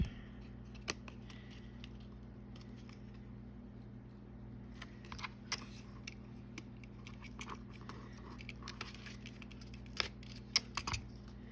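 Scissors cut through playing cards, making soft, close snipping clicks that are scattered and uneven over a quiet, steady background hum, with a few sharper snaps near the end.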